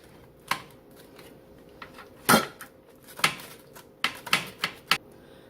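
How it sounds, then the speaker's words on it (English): A knife slicing a Mexican taco pizza into six pieces, giving sharp crisp clacks and crunches that come in irregular bursts, several close together near the end, on an otherwise quiet background. "Now we're going to cut into it. So that's how I cut into the 6 slices."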